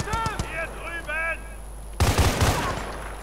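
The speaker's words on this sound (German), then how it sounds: "Das ist ja ein schweres MG" Heavy machine gun fire in Battlefield Bad Company 2, a burst of loud rapid shots cutting in during the second half after a stretch of other game sounds.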